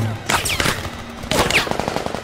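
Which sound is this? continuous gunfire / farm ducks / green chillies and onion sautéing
continuous gunfire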